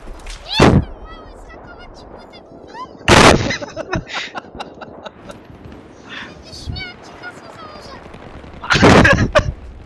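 Gunfire in the video game Battlefield 3: three loud, sharp bursts of shots stand out against a busy background of game noise, with players' voices talking in between.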